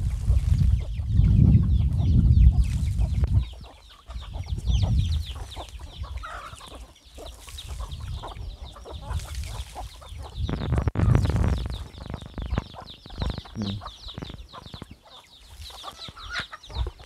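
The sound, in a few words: chickens clucking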